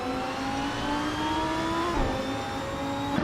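A 2014 Lamborghini Huracan Super Trofeo in a racing video game at Mossport, its engine holding a steady high whine that shifts pitch once mid-run as if changing gear, loud and continuous with no talk.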